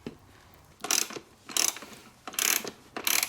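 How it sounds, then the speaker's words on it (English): A ratchet works loose the top support bolt at the back of a CRF250R dirt bike frame, making four loud, fast clicking bursts separated by brief gaps. "you can now take off the top support bolt to the back of the frame of the bike"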